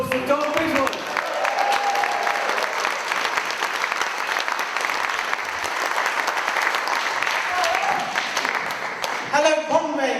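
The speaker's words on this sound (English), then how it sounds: "So can we have a round of applause for Don Biswas?" Sustained audience applause fills a crowded room at a Labour benefit comedy night, loud and steady throughout, with a few voices and cheers rising near the start and end.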